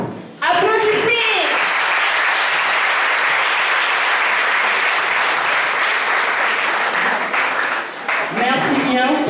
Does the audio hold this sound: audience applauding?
yes